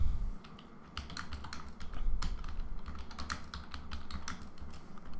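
Rapid, uneven clicking of keys on a computer keyboard, a close, fairly quiet run of taps and short bursts continuing throughout with no voices.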